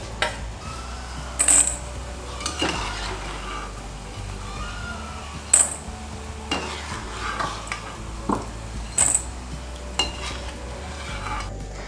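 Butter murukku frying in hot oil, a steady soft sizzle with occasional sharp metallic clicks and scrapes of a utensil in the pan, close by and with no talking.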